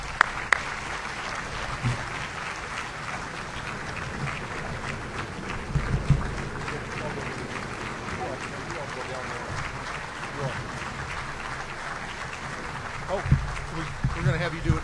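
Audience applause at a Chamber of Commerce monthly luncheon, a dense steady wash of many hands clapping that runs on for about fifteen seconds, with voices and some talk mixed in.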